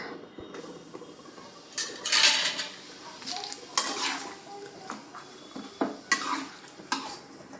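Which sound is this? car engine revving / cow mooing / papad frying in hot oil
papad frying in hot oil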